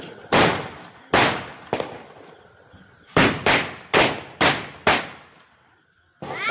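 Diwali chili crackers go off outdoors: about eight sharp, loud bangs in irregular succession, some bunched close together. A faint insect drone continues in the pauses.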